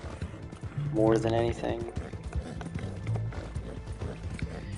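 Horse hooves clip-clop rapidly in the Red Dead Online video game, a steady running beat under a voice and game sounds.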